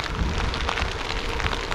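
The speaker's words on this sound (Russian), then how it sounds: "Все, пошел дождь опять." Steady rain falls during a bikepacking ride in Ukraine, between Kharkiv and Sloviansk, making a dense, continuous hiss of drops with no talk over it.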